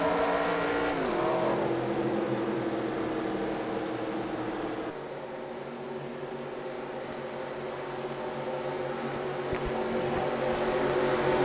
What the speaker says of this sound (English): So cars are now rolling as we begin here in 25 laps at